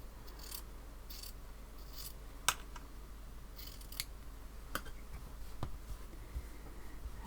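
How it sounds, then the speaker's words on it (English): Scissors trim a fabric quilting strip in a quiet room, a handful of soft, crisp snips spaced irregularly over several seconds against a low steady hum. "now I'm going to trim this strip"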